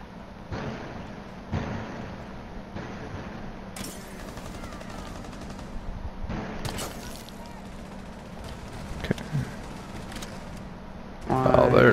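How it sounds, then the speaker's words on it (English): A gunfight in the tactical shooter Rainbow Six Siege: muffled bursts of gunfire echo from a nearby room at irregular intervals over steady background noise, ending with a louder burst. "There's quite the gunfight going on in there"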